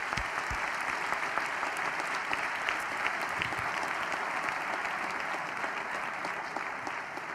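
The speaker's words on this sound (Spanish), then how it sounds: "y un aplauso para todos." Sustained applause from a political audience at a Podemos autumn university closing event, a dense steady patter of many clapping hands holding even for several seconds with no talk over it.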